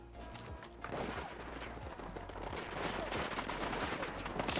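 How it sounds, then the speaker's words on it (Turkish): Rapid gunfire in the video game Battlefield 6 battle royale, dense bursts of automatic shots crackling continuously, loud and close with layered distant reports behind. "Bak sıkıyorlar abi, zor kurtulduk."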